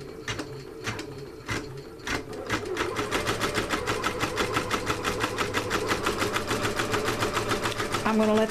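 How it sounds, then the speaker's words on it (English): A sewing machine stitches a patch, starting with a few separate stops and thumps, then settling into a fast, even, rapid-fire rattle of needle strokes that keeps on steadily near the listener. "I'm going to let this finish sewing and then I'll come back to it"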